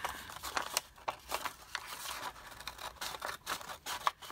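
Scissors snip through paper in a series of close, crisp cuts with soft crinkling between them, uneven in rhythm.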